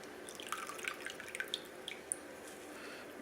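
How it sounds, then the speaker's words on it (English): Milk drips and trickles as soaked oats are squeezed out by hand, a quiet scatter of irregular plinks and small splashes over faint background hiss. "We're going to squeeze the milk out of them"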